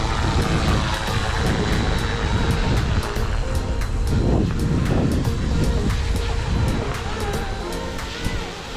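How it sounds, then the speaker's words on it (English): FW200 GPS RC helicopter in flight, a steady, loud whirring rotor and motor drone that holds nearly constant the whole time with slight swells, heard outdoors and close. "Little copter, a lot of power."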